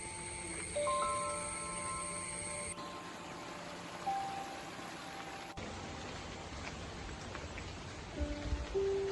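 Steady rain patters through the trees of Janaki forest in Kuttiyadi, Kozhikode, in a continuous hiss, with faint tonal bird or insect calls drifting in and out.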